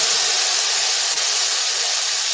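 A ribeye steak hits a hot pan with excess water on its surface, giving a loud, steady, broad hiss and sizzle that holds without a break.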